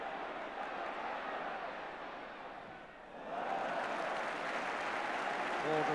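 A football stadium crowd applauds during a Spurs versus Southampton match, a broad, steady wash of clapping that dips briefly and then swells again, heard faintly and at a distance.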